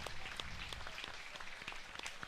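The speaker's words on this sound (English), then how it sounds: "Let's have a big round of applause for Ryan Franz." Applause from a crowd at the 2018 Minnesota Purple Ribbon Livestock Auction: a fairly quiet, steady wash of clapping that lasts the whole moment.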